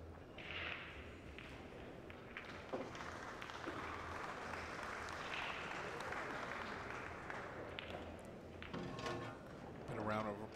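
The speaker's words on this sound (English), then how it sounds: "a round of applause in the background there from the league event that's happening" Round of applause from a pool league event at the Medalla Light Puerto Rico Open, sustained background clapping with a commentator talking over it.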